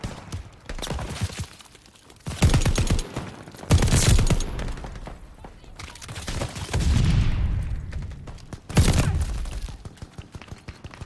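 A Bren machine gun fires in Call of Duty: Vanguard in several loud, close bursts separated by brief pauses, with rumbling game noise in between and no talking.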